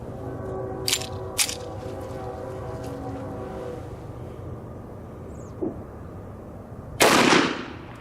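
A Colt 1911 pistol firing Winchester World War II Victory Series ammunition outdoors at dusk, with two sharp reports early and a louder, longer blast near the end over a steady low hum, no speech.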